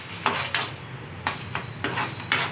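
Urad dal frying in oil in a pan, with a soft steady sizzle broken by about five sharp scraping stirs of a spoon at fairly regular intervals, close and clear, with no one speaking.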